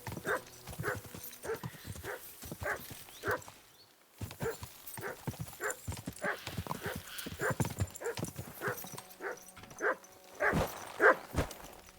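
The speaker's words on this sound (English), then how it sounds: "Dog, what's going on? Why are you barking?" A dog barks repeatedly in the medieval open-world game Kingdom Come: Deliverance 2, with horse hooves clip-clopping steadily alongside at moderate distance and a brief neigh.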